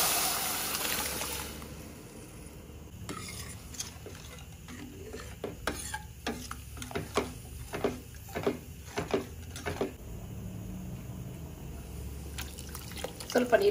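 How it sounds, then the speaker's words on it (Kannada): Water is poured into a pot of lentil rasam made with cooked dal and tomato. A splashy pour comes first, then a series of light clinks and liquid stirring sounds, with voices faintly in the background. "ಸ್ವಲ್ಪ ನೀರು ಕೂಡ ಹಾಕಿದ್ದೀನಿ"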